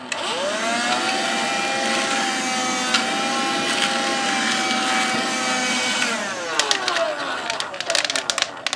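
Black & Decker handheld cordless vacuum picking up debris, a loud whining motor that rises in pitch as it spins up, runs steadily, then cuts off, followed by scattered clatter and rustling.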